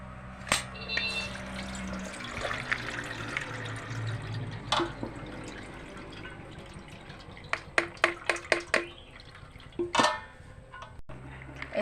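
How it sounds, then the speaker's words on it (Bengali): Water drains off soaked chana dal through a strainer: a running trickle at first, then a series of separate drips and light splashes near the end. "তাই এখন আমি এই ছোলার ডালের জলটা চালিয়ে নেব।"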